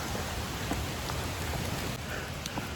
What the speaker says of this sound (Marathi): पाऊस चिपळूणमध्ये पण पडतोय